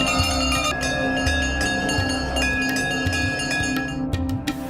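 Metal temple bells ring continuously at a Hindu shrine of Maa Tripura Sundari, a dense overlapping clangor of many bells with bright repeated strikes and sustained ringing tones, loud and close, without speech.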